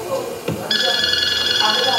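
A phone ringtone starts after a brief thump and rings steadily, bright and electronic, with a faint background murmur.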